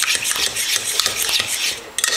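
Wet waffle batter ingredients with coconut cream being stirred briskly in a bowl, a loud, close, continuous scraping and sloshing with utensil clinks against the sides, alone without speech.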